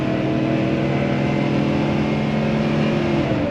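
A 2018 Coachmen Freelander Class C RV with a 6.0 V8 accelerating gently, the engine drone climbing slightly in pitch as it pulls, steady and close, with no talking.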